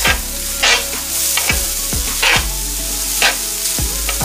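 Ramen noodles sizzle loudly in hot stir-fry oil as a Korean-style side dish cooks, with steady frying hiss broken by several sharp stirring and scraping strokes at regular intervals.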